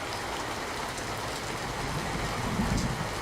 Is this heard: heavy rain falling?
yes